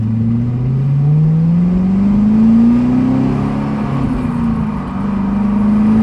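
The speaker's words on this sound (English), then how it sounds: "When you really get in into the throttle, you hear some exhaust, but you really hear more motor" A supercharged 6.2-litre V8 in a 2011 Cadillac CTS-V with a six-speed manual hums and slowly climbs in pitch as it accelerates, a steady low droning exhaust note heard from inside the car, with no talking.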